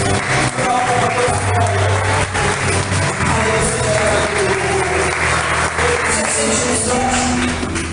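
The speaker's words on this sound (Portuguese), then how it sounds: "Aplauda Jesus porque Ele merece." A church congregation applauding during a worship service, dense sustained clapping over a loud background of music and crowd noise, with some voices mixed in.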